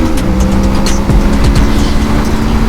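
Kawasaki Z650 motorcycle engine revved hard toward the rev limiter, a loud close buzzing drone with rising pitch sweeps and brief dips, no talking.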